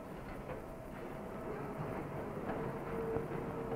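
A train runs along rails with a low, steady rolling rumble and soft faint clatter, heard at moderate distance without voices.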